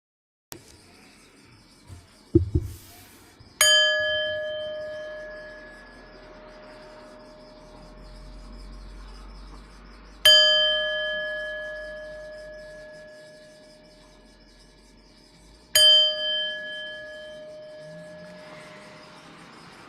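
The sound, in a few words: meditation bells ringing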